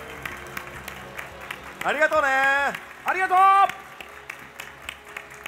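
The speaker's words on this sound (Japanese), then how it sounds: "盛大な拍手を" Applause from an audience at a Metal Gear Online 3 stage event at Tokyo Game Show 2015 swells under a couple of voices briefly speaking, with clapping continuing faintly around the talk.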